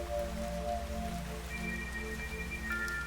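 Steady rain falls in the fantasy game Fantasian Neo Dimension, a continuous close hiss under soft tonal music with no voices.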